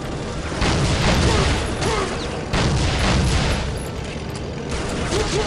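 Grenades explode in Soldier of Fortune, a few heavy booms and rumbling blasts over about five seconds, dense and loud with gunfire-like crackle throughout.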